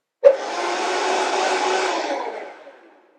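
A Vitamix blender briefly whirs through basil, starting with a sharp onset, holding a loud steady roar for about two seconds, then winding down as it is switched off.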